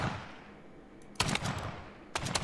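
Shotguns fire in the sandbox building game YLand: two clusters of rapid, loud blasts after a quiet opening, with no talk.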